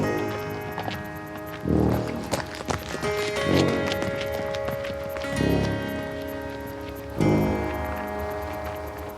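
Horse hooves clip-clop steadily on a Sunday ride along an old Roman road, mid-distance and rhythmic, with a few louder thumps mixed with tonal background sound.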